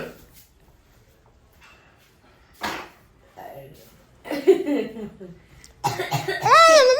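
Several separate coughs and throat sounds break up quiet stretches, with people talking and laughing nearby toward the end.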